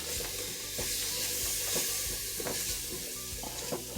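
A spoon stirs half an 8-ounce can of tomato sauce and seasonings into Puerto Rican-style beans in a hot pot, with steady sizzling under repeated scraping strokes, close and continuous.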